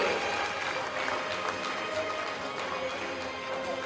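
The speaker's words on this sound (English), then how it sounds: "Once again, a big round of applause to President Lai." Audience applause at the opening ceremony of the 2026 Yushan Forum after the President's appearance, a steady, fairly distant wash of clapping lasting throughout with faint voices mixed in.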